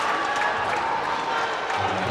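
Basketball crowd at a high school game, a steady wash of applause and cheering filling the gym throughout, fairly loud and continuous with no single voice standing out.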